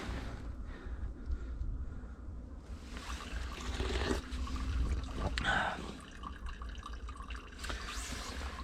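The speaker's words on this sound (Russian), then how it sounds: "водичка бежит, кто-то поставил даже тару, чтобы набрать ее. Но струйка небольшая есть" A small trickle of spring water runs and drips steadily near Stary Krym in Crimea, close and continuous, with faint handling noise and no clear talk.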